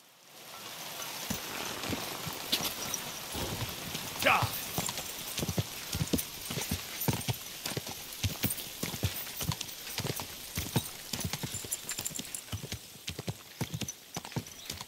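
Horse hooves clip-clop in a steady walking rhythm in Kingdom Come: Deliverance II, close and distinct, with a brief whinny early on over a faint rain-like hiss.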